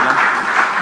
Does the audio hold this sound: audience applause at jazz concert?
yes